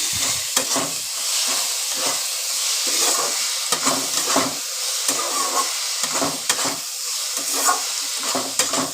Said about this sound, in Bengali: এবার আবার একটুখানি ভালো করে কষিয়ে নিচ্ছি